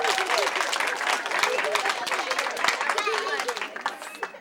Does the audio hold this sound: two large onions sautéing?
no